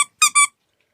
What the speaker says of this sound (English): Roscoe, let me find the squeaky thing in here.